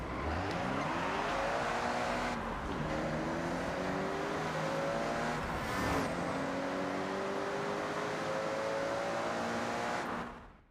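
A car engine is driven on heavy throttle, revving loudly and climbing in pitch through several shifts, a continuous close roar with no speech.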